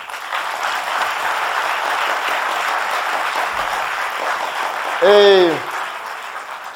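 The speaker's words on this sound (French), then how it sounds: "On va applaudir notre invité." An audience applauds a guest on a televised café talk show with the culture minister, steady dense clapping filling the room, then a voice briefly speaks over it near the end.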